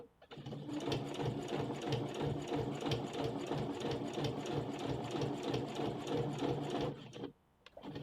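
A sewing machine stitches bias binding onto a sleeve in one continuous run, its needle chattering in a rapid, even rhythm close up and loud, then stopping cleanly near the end.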